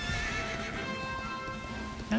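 Horse in Dragon Quest 11 S whinnying and snorting, close and clear over a steady hum of game music, ending with a brief louder sound at the end.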